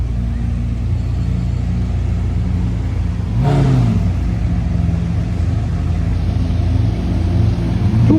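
A Lamborghini Aventador SV with a modified double exhaust revs in a Cannes street. A steady low V12 rumble swells into a sharp rev burst partway through, then settles back to a loud idle with no talk.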